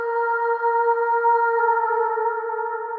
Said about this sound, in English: if you just listen to that reverb